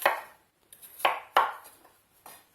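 A knife chops potatoes into large pieces on a cutting board for a zucchini and potato soup, giving about five crisp, separate thuds at an uneven pace, close up and with no talking.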